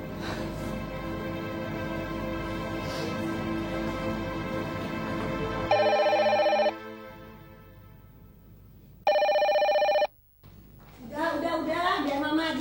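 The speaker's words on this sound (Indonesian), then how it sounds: "biar mama aja yang angkat teleponnya" A telephone rings twice in a hospital drama scene, each short electronic ring burst loud and clear, with people talking before, between and after the rings.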